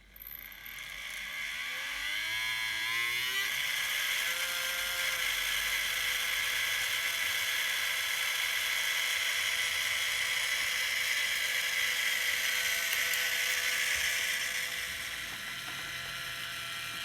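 A model railway track-cleaning vacuum wagon running behind a locomotive on a layout: a steady high electric whir with a rising motor tone at the start, continuous and close, easing off near the end.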